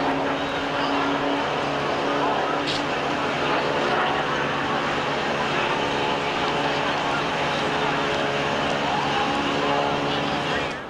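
A driver's stock race car at the 1992 Hooters 500 heard from inside the cockpit, a loud, continuous engine roar holding steady for the whole stretch, with a voice faintly beneath it.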